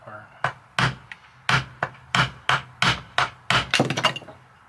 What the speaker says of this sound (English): This is just a poly hammer, it's not a steel.